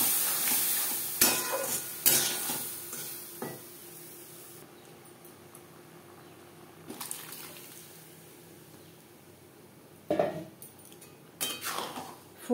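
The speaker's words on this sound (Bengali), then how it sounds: "ফোড়নের সাথে ডাল ও চিচিঙ্গা বেশ ভালো করে মিক্সড করে দেব।" Boiled lentils and snake gourd are stirred into fried onion tempering in a pan, with a utensil scraping and clinking against the metal in scattered bursts over a faint sizzle and no talk.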